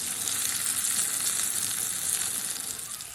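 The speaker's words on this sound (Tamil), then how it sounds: "கடாயில் எண்ணெயை ஊற்றி பாவக்காயை வதக்கிங்கோ." Stuffed bitter gourd frying in oil in a kadai, a steady, dense sizzle that holds evenly loud and close throughout without pause.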